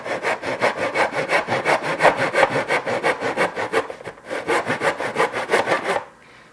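Hand saw cutting wood molding held face down in a miter box at a 45-degree angle, a steady rhythm of loud back-and-forth strokes for about six seconds before the cut ends and the rasping stops.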